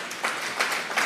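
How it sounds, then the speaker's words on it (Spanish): A church congregation claps in loose bursts that swell and fade three times in a short stretch, moderately loud and close, with no talk over it. "Vamos a darle un fuerte aplauso pues al Señor"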